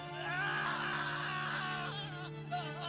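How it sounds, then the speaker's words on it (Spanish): A dubbed Dragon Ball anime character screams in pain over epic background music, a long, loud, sustained cry that wavers and strains before tapering off near the end. "El pelón ahora está chillando como nunca"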